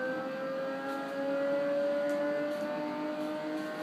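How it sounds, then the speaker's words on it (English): A Pagani Zonda engine revs in the video game Test Drive Unlimited 2, a steady synthetic drone with its pitch creeping upward, loud and alone without talk. "Like the Pagani Zonda sounds like this."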